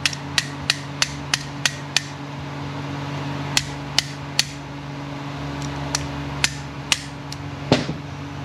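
A hammer drives a gear down flush during a TH400 transmission rebuild, giving sharp metallic strikes in irregular bursts, some quick in succession and some spaced out, close and clear over a low steady shop hum.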